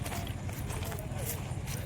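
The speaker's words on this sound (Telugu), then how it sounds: "గొర్రెలు అయితే పోతున్నాయి, గొర్రెలు అయితే పోతున్నాయి" A passing flock of sheep makes a quick, busy clatter of hooves on the ground outdoors, close and continuous, mixed with voices talking nearby.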